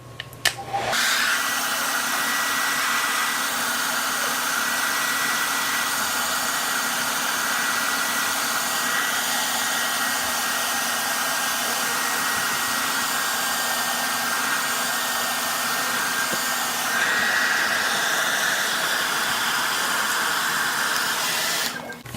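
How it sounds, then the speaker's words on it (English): A hair dryer blows steadily at close range, heating a sticker for removal, a loud continuous whooshing drone that runs almost unchanged from start to finish. "you literally just get your hair dryer, you put it on there for maybe a few seconds"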